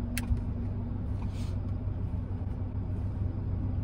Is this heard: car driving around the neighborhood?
yes